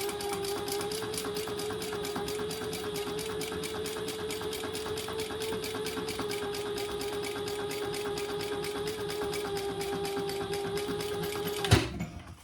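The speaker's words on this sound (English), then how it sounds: "do your top stitching of that seam on the inside and just do an 1/8 of an inch" A sewing machine runs steadily, top stitching a seam on a pencil pouch with an even rapid whir. It stops abruptly near the end with a sharp clunk.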